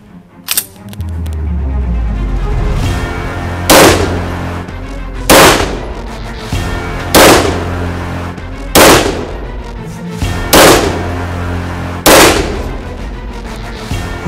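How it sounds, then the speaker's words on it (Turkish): Six sharp gunshots fired backwards between the shooter's legs at a target during a special operations shooting drill, spaced at a steady rhythm about every one and a half seconds over a constant low rumble, loud and close, with no talking. "Şimdi arkası dönükken bacağının arasından arkadaki hedefi vurmayı öğretecek bize."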